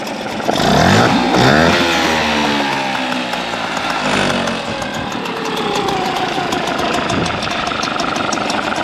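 A Hangkai outboard motor fitted with a Mercury carburettor runs loud and steady nearby, its engine note rising and then settling into a continuous drone with shifting pitch, and nobody talks over it.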